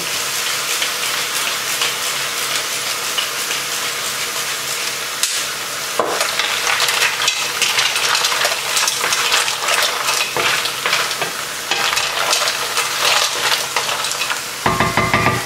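Mussels cooking in beer in a pot give a loud, continuous dense bubbling sizzle, close up, with scraping and stirring clatter toward the end, and no voices.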